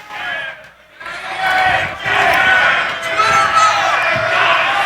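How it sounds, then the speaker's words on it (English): A restless crowd at a StarCraft tournament final roars and chants in loud, sustained waves, briefly dipping before surging again, with voices shouting throughout. "Crowd's getting pretty impatient."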